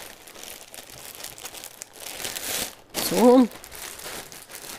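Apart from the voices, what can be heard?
rustling plastic bag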